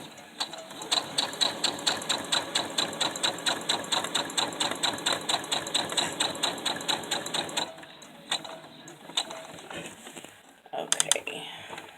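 Sewing machine stitching a fabric children's book, a steady run of rapid mechanical clicks for about eight seconds before stopping, followed by a few scattered handling noises.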